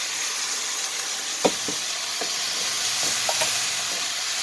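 Canned corn with its liquid left in is tipped into a hot pot for bacon corn chowder, giving a steady close hiss and sizzle with a few soft clinks and plops.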